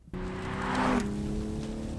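A 2020 Toyota GR Supra engine on a country road, heard from the cabin: a steady, close engine drone that starts abruptly, swells briefly, then holds an even pitch, with no talking.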